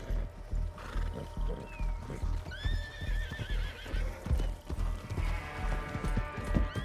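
A horse in the Red Dead Online video game neighs and whinnies several times over a continuous clatter of clip-clopping hooves, with busy in-game ambience underneath and no talking.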